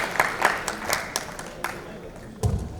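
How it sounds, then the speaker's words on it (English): Light, scattered clapping from a crowd at a launch event fades out, then a final sharp clap lands near the end, with faint voices behind. "Big round of applause for them."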